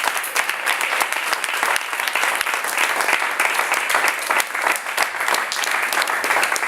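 A church congregation applauds loudly and continuously for several seconds, a dense steady wash of clapping with no speech over it.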